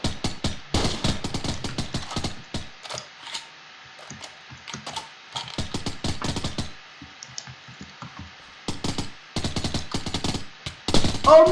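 Bursts of M16 rifle gunfire in a first-person shooter video game match, rapid clattering volleys repeating in quick clusters with short gaps, fairly loud and close, a louder burst near the end.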